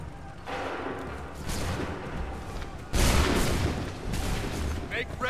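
Several rounds of massed musket volleys crash out in Assassin's Creed III at Lexington and Concord. Four loud, rolling bursts of gunfire come in ragged succession, the third heaviest, over a continuous rumble of battle.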